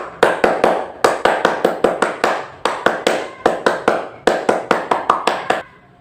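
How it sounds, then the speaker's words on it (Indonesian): Rhythmic scout clapping routine (tepuk pramuka) performed twice: sharp, close hand claps in quick patterned bursts with brief pauses between phrases, ending in a short silence. "Langsung saja kita mulai 2 kali tepuk pramuka."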